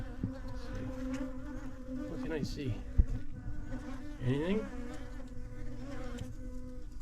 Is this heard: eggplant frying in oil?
no